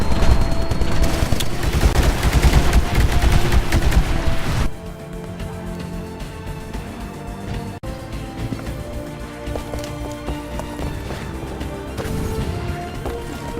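Rapid gunfire from a submachine gun in the video game Titanfall, a loud dense burst for about four seconds, then quieter scattered shots and game sounds continuing throughout.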